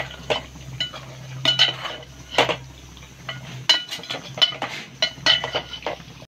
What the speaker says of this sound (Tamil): போட்டு நல்லா கிண்டி விட்டுடலாம்